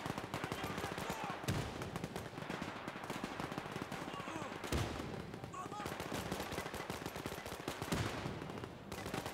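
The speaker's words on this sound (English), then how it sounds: "Oh, MG34." Rapid bursts of MG34 machine-gun fire mixed with other gunshots in the World War II strategy game Men of War 2, sharp, dense crackling volleys repeating throughout with a few heavier booms.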